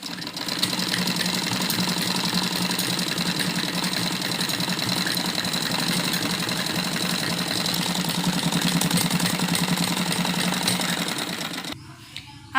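A sewing machine runs steadily and fairly loud for about twelve seconds, stitching over the folded hem of a child's Afghani-style salwar, then stops abruptly near the end.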